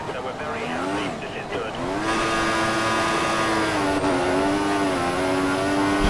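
A Formula 1 car's engine in F1 2014 at Spa, a loud, sustained high-pitched whine that climbs and holds steady with slight pitch dips as the car races, while someone talks over it.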